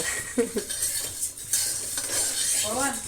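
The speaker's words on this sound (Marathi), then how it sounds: "आता मस्त परतून तेल अगदी कमी घ्यायचं जास्त नाही" Puffed rice snack is stir-fried in a little oil, with brisk scraping and rustling of a spatula against the pan, a light sizzle and a few metallic clinks over a short burst.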